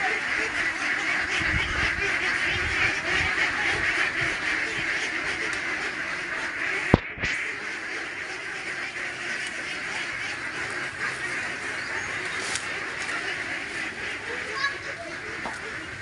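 A flock of pet ducks on a forest farm in Tagum City, Davao quack in a dense, continuous chorus nearby, with a person talking over the birds and a brief thump midway.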